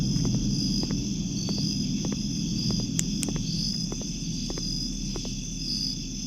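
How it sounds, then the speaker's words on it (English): Crickets chirping in the night ambience of the video game Signal Simulator, a continuous high-pitched trill over a low steady background hum, with faint ticking clicks in a loose rhythm. "I also noticed that the crickets turn off at, like, during the day"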